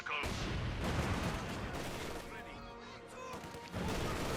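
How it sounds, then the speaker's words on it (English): A Panzer IV's 75mm shell striking a Soviet T-70 light tank in Company of Heroes 2, amid loud, dense battle noise with sharp impact cracks and rumbling gunfire throughout. "Going after that T-70, trying to finish the menace, and there you go, 75mm shell goes through it, like a hot knife through butter"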